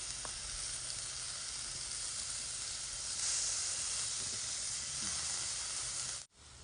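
Mushrooms grilling over heat give a steady, close sizzling hiss that runs continuously with no talking.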